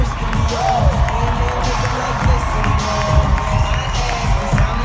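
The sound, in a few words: audience clapping and cheering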